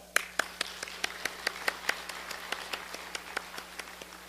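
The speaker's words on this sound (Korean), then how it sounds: "우리 그분을 미리 기대하며 감사의 박수를 올려드릴까요?" Slow, evenly spaced claps from a church congregation giving thanks during a service, sounding like a few hands beating in unison at a moderate distance, fairly quiet over a steady low hum.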